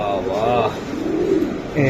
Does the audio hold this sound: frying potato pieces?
no